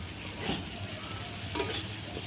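Sliced purple cabbage frying in a pan gives a soft, continuous hiss with a faint scrape or two of stirring, quiet and brief with no voices.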